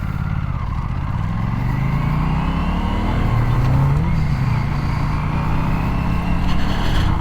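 Aprilia RS 457 motorcycle weaving through traffic, its engine droning loud and steady from the rider's position with slight shifts in pitch as it threads between cars, heavy wind noise underneath.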